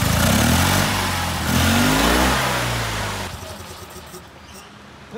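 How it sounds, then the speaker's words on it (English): A small engine running on cheap kerosene fuel revs loudly and roughly for about three seconds, then cuts out, leaving a faint fading rattle. "But it's running. It's running on the fuel."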